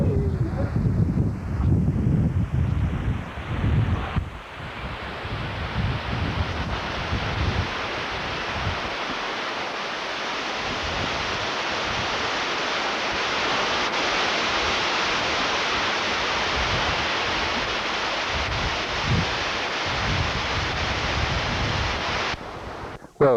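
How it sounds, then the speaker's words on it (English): Strong wind on a hill in Petaluma rushes in a broad, steady roar against the microphone, sustained for over twenty seconds, with heavier buffeting gusts and some low rumble at the start. "it's a pretty windy day in Petaluma"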